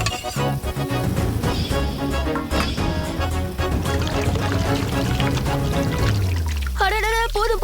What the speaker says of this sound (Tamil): யாராவது மாவுல இவ்வளவு தண்ணி ஊத்துவாங்களா?